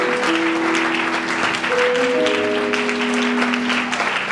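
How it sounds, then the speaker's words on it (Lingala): A church congregation claps loudly and steadily while sustained tones, likely voices or an organ, ring out above the applause. "lorsqu'elle s'approche, nous acclamons le Seigneur"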